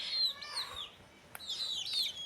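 Domestic hens at a rural home give soft clucks and chirpy calls in short bursts, moderately close, with no talking.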